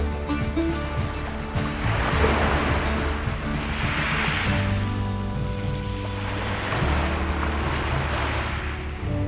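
Sea waves roll and wash over a pebble beach of smooth round stones in Spain, a steady loud surge with repeated swells and wind noise, no voices.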